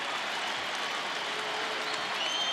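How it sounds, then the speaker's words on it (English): A basketball crowd at Madison Square Garden cheering the Knicks late in a 2005 NBA game against the Utah Jazz, with steady broad applause and crowd noise that holds at an even level throughout. "they're starting to stand and give these Knicks a cheer as we hit 2 minutes"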